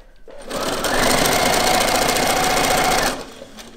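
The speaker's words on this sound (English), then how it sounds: "I'm gonna just start stitching and I'm gonna go to the next corner." A sewing machine stitches quilt binding in a loud, steady, rapid mechanical run lasting about two and a half seconds, starting and stopping cleanly with no talk over it.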